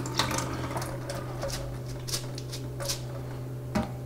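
Barley is rinsed under a running tap, a steady close splash of water with brief clinks and swishes as the grain is handled, no talk.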